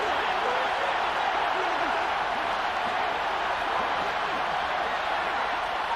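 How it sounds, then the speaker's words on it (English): Stadium crowd noise in the Madden 23 football video game, a steady, dense roar of cheering fans swelling ahead of a big third down, continuous and fairly loud throughout with no pauses. "The crowd getting into it as we come up on a big 3rd down."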